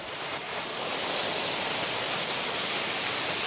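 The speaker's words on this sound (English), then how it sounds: "The mist from this waterfall keeps spraying all over me." A waterfall below a cliff house in winter, a loud, continuous broadband roar that swells slightly and then holds steady, close enough for its spray to reach the listener, with no voices.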